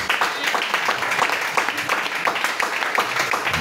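A church congregation at a worship service applauds to acclaim Jesus, with steady, dense, close clapping from many hands continuing throughout.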